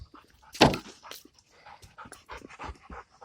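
A dog pants in quick uneven breaths, close by, with a sharp louder huff near the start and a string of softer rhythmic gasps after it, on a hot day.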